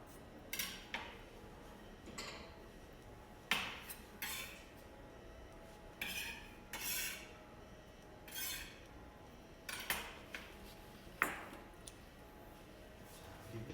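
Sharp knife chops land on a cutting board in short irregular bursts as vegetables are minced for a ragù sauce, separated by pauses, close and crisp.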